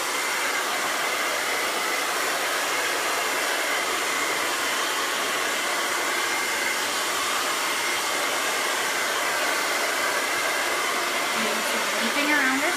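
A hair dryer blows steadily at close range throughout, a continuous loud rushing whoosh of air while hair is blow-dried straight and smooth at a salon, with no talking.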